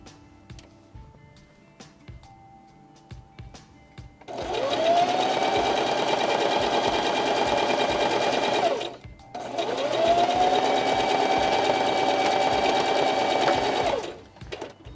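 A sewing machine stitches a puppet in two long continuous runs of steady, fast mechanical whirring, each lasting several seconds with a short pause between, preceded by quiet ticking and handling noises.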